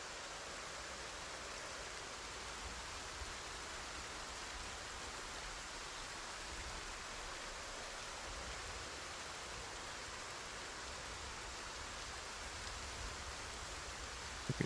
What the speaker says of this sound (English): And with the rain, it's really hard to hear these guys now.